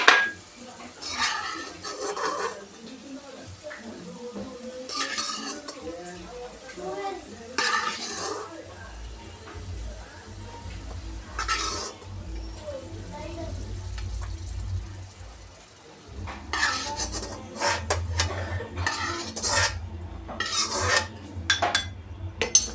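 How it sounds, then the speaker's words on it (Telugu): Raisins stirred in hot ghee in a pan while making rava laddu, with a soft sizzle under repeated spoon scrapes and metal clinks, louder utensil knocks toward the end. "నెయ్యి వేడెక్కాక కిస్మిస్లు ఉన్నాయి కండి, కిస్మిస్లు వేసుకోవాలి. ఇప్పుడు వీటిని వేయించుకొని పక్కన పెట్టుకోవాలండి"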